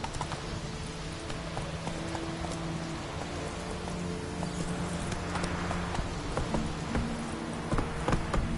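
Roach, a horse in The Witcher 3, gallops with a rapid, steady clip-clop of hooves close by, set against a constant patter of rain.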